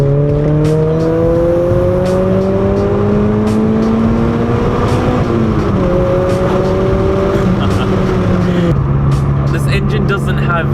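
A Honda Integra is downshifted and floored, the engine note climbing steadily under hard acceleration, dipping briefly at a gear change and rising again, loud and close with a rough, buzzy edge.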